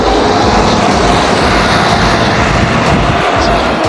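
Loud, continuous roar of a metro train at Friedrich-Wilhelm-Platz station in Berlin, a dense rumble filling the whole stretch without pause.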